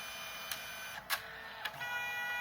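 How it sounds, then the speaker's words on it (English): A home printer, recently fixed of a no-paper cassette error, runs a print job. Its continuous motor whir is broken by three sharp clunks of the paper feed and carriage, heard close up with no voices. "And now it prints."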